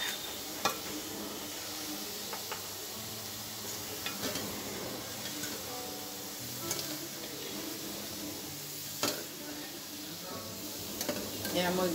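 Manchurian balls frying in hot oil give off a steady, close sizzle with occasional stirring clinks and scrapes from a utensil in the pan, and a voice speaks faintly now and then.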